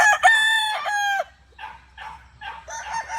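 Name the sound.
Allen Roundhead gamecock crowing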